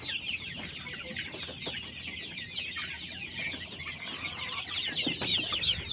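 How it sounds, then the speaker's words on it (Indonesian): Many young chicks cluck and chatter together in a busy, continuous chorus, moderately close, with no speech. "Ayam di sebelah sini lagi."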